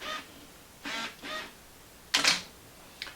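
A series of short mechanical clicks and snaps as a manual shutter release fires a remote camera, several soft ones followed by a sharper, louder shutter click and a faint final tick, heard alone.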